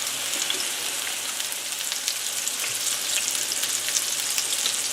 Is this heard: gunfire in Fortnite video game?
no